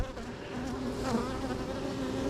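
Honeybees buzz steadily around an open hive, a dense continuous hum of many insects close by, holding an even level throughout with no voices.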